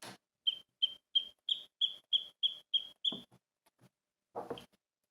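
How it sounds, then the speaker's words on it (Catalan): A sparrow chirps nine times in quick, evenly spaced bright notes, close and clear, followed by a few soft rustles and silence. "Primer, us he ensenyat el pardal."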